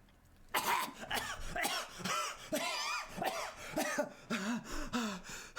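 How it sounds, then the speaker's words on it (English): A man chokes and coughs in a run of harsh, rough coughs and throat-clearing bursts, close and loud, with gasping breaths between them. "He suddenly starts choking and coughing"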